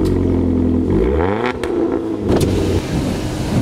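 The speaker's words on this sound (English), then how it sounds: "installing a Flowmaster cutback exhaust system, and it sounds pretty wild" A Ford Fiesta Redline Edition with a Flowmaster cutback exhaust revs loudly up and down with a deep, rumbling, throaty exhaust note, close and continuous throughout.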